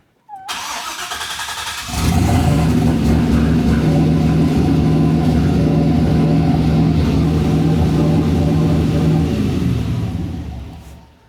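A car engine that the key fails to switch off cranks and catches after a short whirring start, then runs on at a loud, steady idle with a constant rumbling drone, close by and with no talking.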